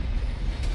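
A train rolling in during the video game Alan Wake: a steady, loud low rumble of heavy rail wheels and carriages, continuous with no voices, filling the whole short stretch.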